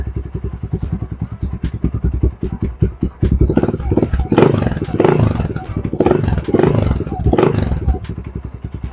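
A motorcycle fitted with an Akrapovic exhaust idles close by, with a loud, steady, pulsing low rumble that throbs rhythmically throughout.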